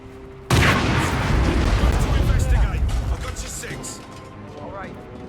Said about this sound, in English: Someone is setting off explosions.